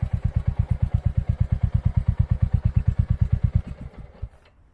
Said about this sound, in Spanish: Y arrancamos la prueba de esta Royal Enfield 350, es la Hunter, el modelo digamos Naked básico.